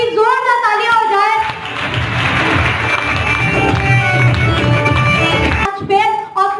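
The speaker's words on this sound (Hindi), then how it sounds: "मैं चाहूंगी सिकंदर जी को मंच पे बुलाऊंगी, आप सबकी जोरदार तालियां हो जाए" Burst of loud audience clapping and cheering at a business network stage event, rising briefly between stretches of someone speaking over a microphone.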